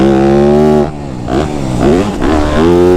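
A Yamaha YZ250F dirt bike revs hard, its engine pitch climbing and dropping through several quick throttle blips, loud and close.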